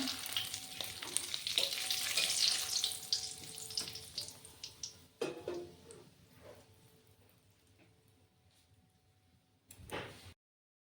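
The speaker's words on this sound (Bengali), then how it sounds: "এখানে আরও কিছুটা তেল দিয়ে দেব দিয়ে দেব একটা শুকনো লঙ্কা তেজপাতা" Dried red chilli and bay leaf hit hot oil for a Bengali country-chicken curry, giving a loud, dense sizzle for the first few seconds that gradually quiets to a softer crackle, with a brief clatter near the end.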